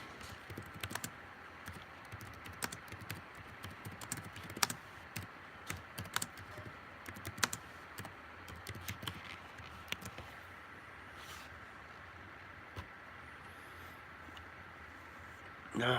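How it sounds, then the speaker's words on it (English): Fingers type on a computer keyboard in quick, irregular bursts of light clicks that sound faint and close, then thin out toward the end. "just typing some stuff in on the chat,"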